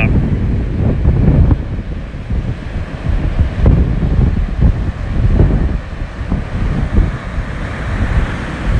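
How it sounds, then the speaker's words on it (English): Rough ocean surf churned up by Hurricane Dorian pounds the shore at Vero Beach at low tide, loud and close, with heavy wind buffeting the microphone and repeated surges of crashing waves throughout. "the waves that Hurricane Dorian is just churning up"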